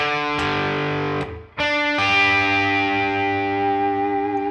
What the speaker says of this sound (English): these 2 notes form a power chord